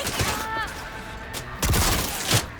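Shotgun blasts in a first-person shooter video game, firing slow-moving projectiles: several loud, close booming shots at irregular intervals over a rumbling, dense game soundscape.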